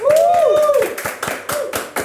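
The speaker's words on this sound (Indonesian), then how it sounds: "Wah, tepuk tangan dulu dong guys" A small group at a university summer school session claps in a quick, uneven series of sharp claps while a voice calls out over the first half.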